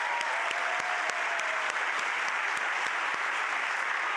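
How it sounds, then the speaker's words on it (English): A crowd at a county address applauds the Montgomery Elementary Orchestra after its performance, a steady, full round of clapping with a few sharper individual claps standing out, no voices over it. "Please give a round of applause for the Montgomery Elementary Orchestra that just performed."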